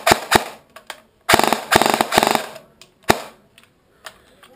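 A stock Cyma MP5 SD6 airsoft gun fires in short automatic bursts and single shots, sharp rapid clicking cracks close by, with brief pauses between strings.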